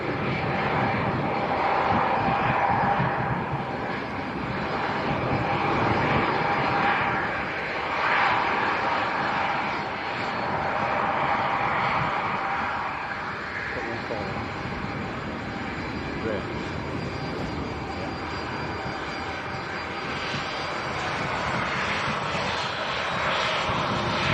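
A Ryanair Boeing 737 jet taking off to Riga from Leeds Bradford Airport, a sustained broad engine roar swelling and easing slightly, heard at a distance with a voice talking over it.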